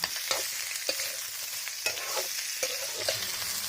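Chopped onions sizzle in hot oil in a wok while a utensil stirs and scrapes them in irregular strokes, a steady close frying hiss with sharper clacks, and no talking.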